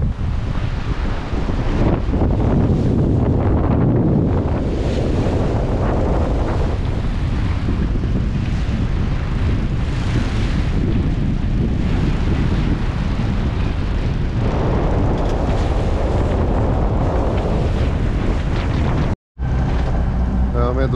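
Strong wind buffets the microphone over large sea waves while a sailboat travels near Gibraltar, a constant loud roar with surging swells and a brief dropout near the end.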